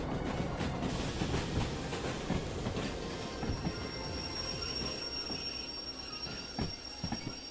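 A train rolls along the rails in the Derail Valley game, a continuous dense rumble with faint rhythmic clacking and occasional metallic squeal, steady and close with no talk.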